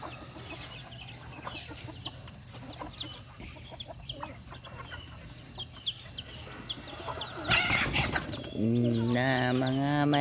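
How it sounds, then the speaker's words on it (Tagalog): Chickens cluck and chatter at a distance over a low background hum, then a sharp noisy burst, followed by a louder, closer drawn-out call near the end. "Na mga manok nga kulit."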